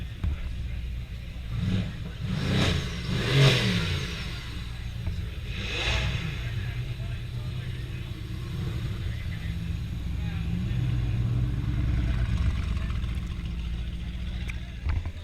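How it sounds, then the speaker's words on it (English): A car engine roars and revs over a steady rumbling idle at the Goodwood Festival of Speed, with a few sharper bursts early on, heard amid crowd chatter at moderate distance. "However, the engine is rather noisy."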